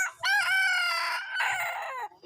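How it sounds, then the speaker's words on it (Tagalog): A red junglefowl rooster crows loudly and close by, one long drawn-out cock-a-doodle-doo with a second rising phrase, no other sounds around it. "tumitilaok na labuyo o alpas"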